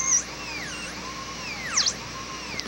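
High-pitched whine of a carbide burr cutting a metal pin, steady and close with sweeping pitch changes as the tool presses and eases off.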